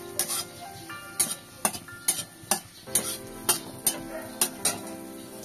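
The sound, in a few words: dried red chillies sizzling in oil while stirring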